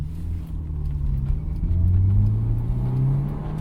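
A Honda S2000 AP1 with 138,000 miles revs its engine while the driver struggles with a high clutch bite point, a steady mid-pitched hum rising in pitch as the revs climb, heard from inside the car.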